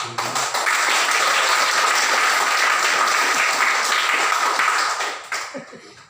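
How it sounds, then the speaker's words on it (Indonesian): Sustained applause from an audience at a school visit by a district education head, dense and steady for several seconds before tapering off at the end. "Kita tepuk tangan untuk itu."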